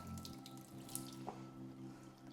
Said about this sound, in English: you just want a drizzle of hot water, and then as you mix, a little bit at a time